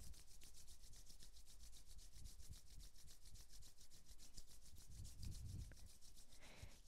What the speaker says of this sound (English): Palms together, rub them up as fast as you can.